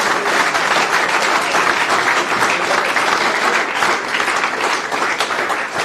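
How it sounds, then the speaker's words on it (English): Sustained applause fills an Adelaide Footy League medal presentation as a crowd claps loudly and continuously for a back-to-back Keith Sims medal winner. "Big round of applause for Abe Davis"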